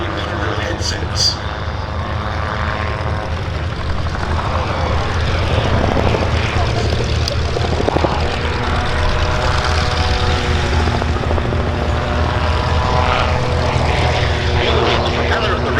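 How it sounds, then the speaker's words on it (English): An autogyro flies at a summer air show at Duxford with its rear-mounted pusher propeller engine, giving a loud, steady droning buzz that continues unbroken throughout. A voice can be heard over it. "The propeller at the rear, pushing the autogyro through the air for forward flight."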